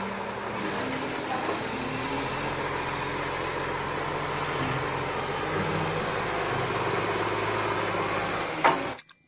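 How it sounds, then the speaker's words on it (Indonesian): Garbage truck rolling past in steady traffic, its engine rumble and road noise holding fairly even and moderately loud before cutting off abruptly at the end. "lihat di sini ada truk sampah"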